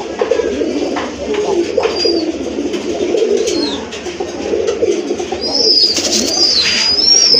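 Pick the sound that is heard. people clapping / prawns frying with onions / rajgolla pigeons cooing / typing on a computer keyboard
rajgolla pigeons cooing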